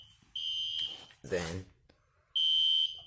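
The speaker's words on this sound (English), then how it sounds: "you flip down the switch and it deactivates the alarm." A fire alarm on a test board sounds in two loud, steady high-pitched electronic tones separated by a gap, with a short spoken word and a clunk between them.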